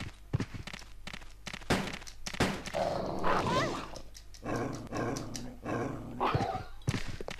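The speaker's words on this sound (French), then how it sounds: "Il y a des chiens." Zombie dogs in the video game Resident Evil Code Veronica, with growls and snarls amid thuds and footsteps against a low game hum, several bursts spread across the scene.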